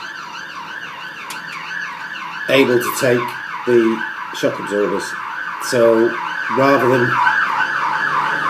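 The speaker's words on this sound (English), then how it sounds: "excuse the sirens" Wailing sirens sweep up and down steadily throughout, fairly prominent, while someone talks over them in short bursts.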